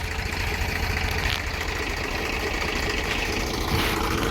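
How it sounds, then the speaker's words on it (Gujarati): A tractor engine idles steadily in a field during wheat sowing, a continuous low rumbling drone with no breaks, heard at moderate distance. "આપણો ટ્રેક્ટર પણ ચાલુ છે"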